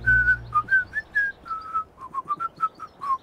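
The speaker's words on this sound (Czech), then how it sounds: "To divné pískání se mi nějak nezdá." A strange whistling in an animated children's cartoon: a run of short, bright whistled notes rising and falling like a chirpy tune, loud and close, with no talk.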